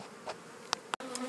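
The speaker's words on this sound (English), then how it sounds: "we've captured the swarm at the bottom of this hive with the bees attempting to get in, and they're not very happy about having been captured" Bees from a captured swarm buzz around the bottom of a hive taken from a living tree, a few individual insects passing close in short buzzing bursts against quiet background.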